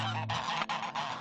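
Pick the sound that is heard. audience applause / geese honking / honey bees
geese honking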